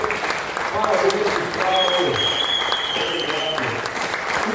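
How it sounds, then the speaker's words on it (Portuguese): An audience at an aerospace engineering talk show claps in sustained, even applause for several seconds, with voices speaking over it. "Salve de palmas para o Gustavo, hein, por favor"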